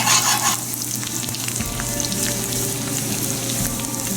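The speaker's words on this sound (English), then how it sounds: "And we'll cook it till the garlic turns brown." Garlic sizzling and frying in a pan with mustard seeds over low heat for spicy pumpkin, a steady close crackling hiss with a brief louder burst at the start and no talking.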